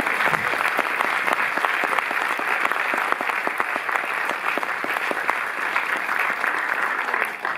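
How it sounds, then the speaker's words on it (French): A cinema audience at the Cinémathèque française in Paris applauds Yann Dedé, with loud continuous clapping from a full hall and sharp individual claps standing out, holding steady to the end. "Donc, applaudissez-le, Yann Dedé."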